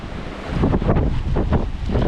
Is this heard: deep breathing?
no